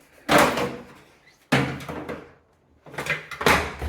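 The front door panel of a Samsung washer is unclipped and pulled free in three sharp, close plastic snaps and clunks, each separated by brief pauses.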